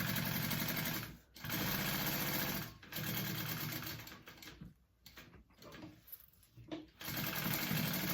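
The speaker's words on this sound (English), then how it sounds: "And then I'm going to sew around this whole panel." A sewing machine stitches around a crossbody bag panel, its fast whirring motor running loud and steady in long bursts that stop briefly and restart, with no talking.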